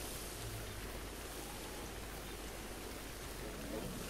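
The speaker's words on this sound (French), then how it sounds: "il y a tellement de bruit de pluie qu'il va pas m'entendre arriver derrière" Steady rain falls in Zelda: Breath of the Wild, a soft, even hiss of downpour that runs unbroken and fairly faint throughout.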